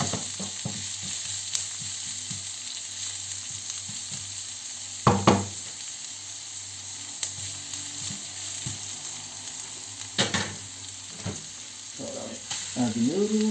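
Chili frying in a pan, sizzling steadily throughout with a few louder stirring scrapes and clatters, close up and without talk.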